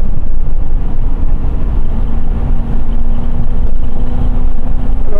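A limousine accelerating hard from a standstill, a loud, heavy engine roar with wind rush, strong and continuous throughout with a slight dip at one gear change.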